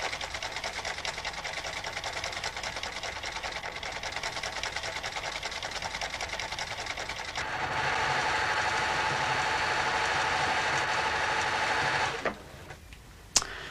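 A cam-driven mechanical sewing machine stitches continuously, a fast steady rattling hum that shifts to a denser, louder rhythm partway through when the stitch pattern changes, then stops with a final clunk.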